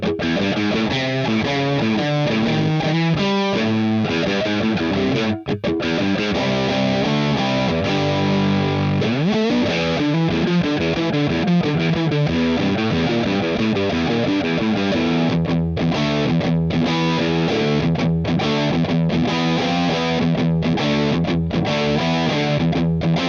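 Electric guitar played through a Joyo Jackman amp-in-a-box pedal with gain at about two o'clock, giving a crunchy classic rock tone: loud, continuous distorted chords and riffs with brief pauses, no talking.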